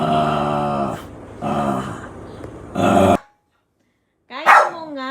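A dog barks and growls in three rough, close bursts, then falls silent before one last sharp yip-like bark.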